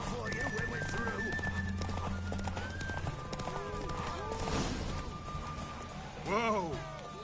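A horse gallops with steady clip-clopping hooves during a race in The Witcher 3, urged on by a rider, while voices and game music run over the hoofbeats throughout.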